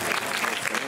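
An audience at a film festival closing ceremony gives a short burst of applause, steady dense clapping that fills the room, with voices mixed in underneath.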